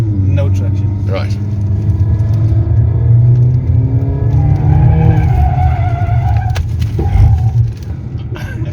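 A car accelerates through a wet corner on Continental tyres during a product launch drive. Its engine rumbles and its tyres hiss and slip, loud and close, under excited voices talking.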